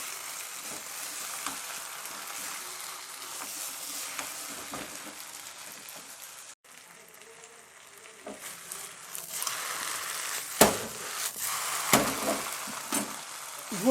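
Pork bhuna with cabbage and potatoes frying in a pan, a steady close sizzle that grows busier, with occasional clinks and scrapes of stirring near the end.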